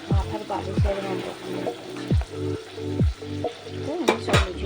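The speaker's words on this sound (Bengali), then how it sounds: "এবার এই যে লুচি বেলে নিয়েছি, কয়েকটি লুচি ভেজে নেব।" Luchi, a puffed flatbread, fry in hot oil with a loud, continuous close sizzle and bubbling, broken by several sharp swishing stirs as a ladle turns them.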